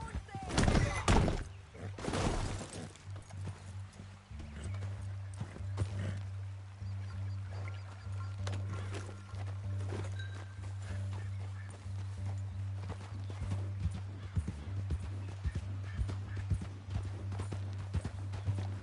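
Horse hooves clip-clopping in the Western video game Red Dead Redemption 2, a steady plodding walk that continues throughout, mixed with ambient game sounds and a low droning hum.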